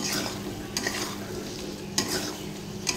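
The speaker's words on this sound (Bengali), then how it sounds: "আলুটা ভাজা ভাজা হয়ে গেছিলো বলে ভালো করে মশলাটা কষিয়ে নেব" Potatoes frying in a pan with spices and turmeric, a steady close sizzle with stirring scrapes and a few sharper clinks of a utensil against the pan.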